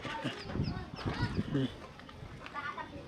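Chickens, grown hens with young chicks, in a coop in a remote valley village give overlapping clucks and squawks, close and busy, under a person talking.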